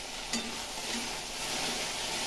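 Okra sizzles steadily in a frying pan, with a quick stir scraping near the start over the continuous frying hiss.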